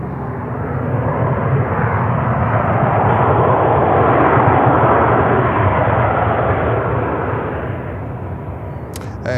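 CRJ 900 regional jet arriving at Charlotte airport, a loud, close, broadband engine roar that builds to a peak mid-pass and then eases off.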